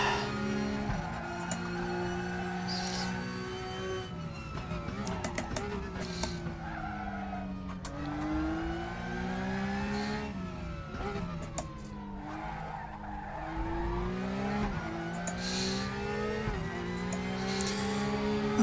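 A Porsche endurance race car in the Raceroom racing game, its engine revving up and down through gear changes with repeated tire squeal and skidding over several laps' worth of corners, loud and continuous.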